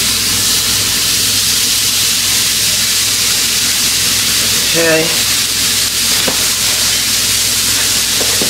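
Loud, steady sizzling of a burger patty frying in a hot pan, a constant crackling hiss, with a brief spoken word partway through.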